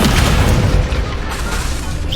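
A Confringo explosive spell blast in Hogwarts Legacy lands as a loud, dense boom with rumbling low end, holding steady across the whole moment with a brief dip midway.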